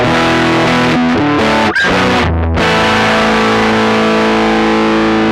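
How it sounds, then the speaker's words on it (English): Hex Fuzz distortion on a guitar synth gives a flat, consistent, monophonic fuzz tone, played loud as sustained notes with a few brief gaps and note changes. "If you really want that flat Hex Fuzz sound, that certainly delivers it."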